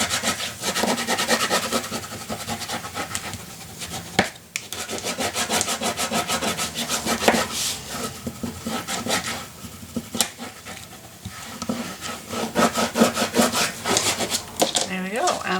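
Glued paper is burnished down on a craft mini album with repeated close scraping and rubbing strokes, in uneven bursts with no talking.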